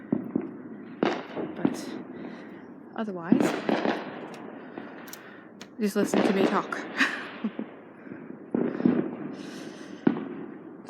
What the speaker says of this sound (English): maybe you'll still see some of the fireworks